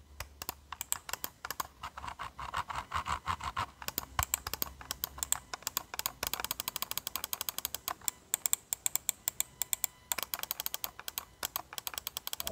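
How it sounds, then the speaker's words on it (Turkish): Rapid, irregular clicking close to the microphone, sharp taps in quick succession of a Crown Micro CMMK 08 computer mouse being clicked repeatedly, with no voices. "Şimdi sırada mouse'un tıklama sesleri var."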